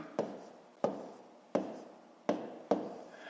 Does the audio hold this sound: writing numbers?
yes